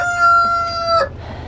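A rooster crows once, loud and close, on a long sustained tonal call that cuts off sharply, followed by a low rumble of background noise.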